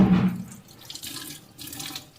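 Tap water runs steadily into a sink while greens (kurfa saag) are washed by hand, a close, continuous splashing flow that swells and eases as the leaves are moved under it.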